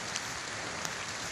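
Heavy, continuous rain pours down over Dhaka as a steady, fairly faint hiss of falling water with a few brief drop spatters, and no talking.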